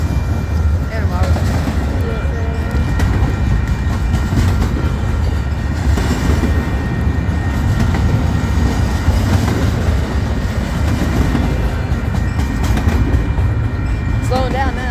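A Union Pacific freight train passes on the Highway 92 crossing in Excelsior Springs, Missouri, a loud, close, continuous rumble of rolling wagons with clickety-clack and faint wheel squeal, while a person talks over it.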